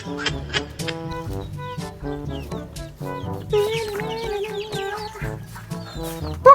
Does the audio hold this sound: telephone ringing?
no